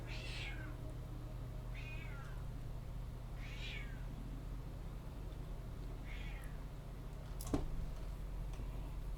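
A cat called Thief meows softly four times at an even pace over a quiet steady hum, followed by a single sharp tap.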